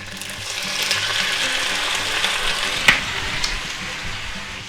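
Sixteen ounces of canned mushrooms fry in a hot pan with a steady, moderate sizzling hiss and one sharp metallic clink partway through.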